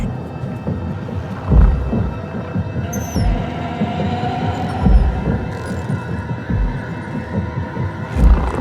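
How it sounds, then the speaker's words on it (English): A heartbeat in the horror video game Amnesia: The Atonement thumps in low, regular throbs about every one to two seconds over a droning ambient hum, with no talking. "I can hear your heartbeat."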